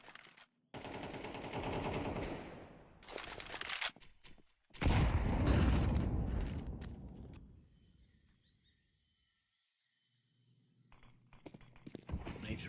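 Bursts of rapid automatic gunfire ring out in a three-versus-three Counter-Strike gunfight in the middle of the map, loud and dense in the first half, then fading to near silence before a few sharper shots return.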